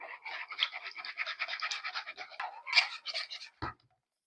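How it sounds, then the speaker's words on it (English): A whisk scrapes rapidly against a bowl, beating eggs, egg yolks and a pinch of salt into a sour orange pie filling, a close, steady rhythmic swishing that ends with a single knock. "And then whisk that together."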